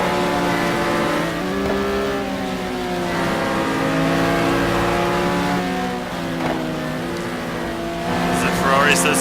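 Loud, layered engine drone from Ferrari and Porsche race cars in a sim racing endurance event at Phakisa, with pitch repeatedly climbing through the revs and dropping at gear shifts, and a brief tire squeal toward the end.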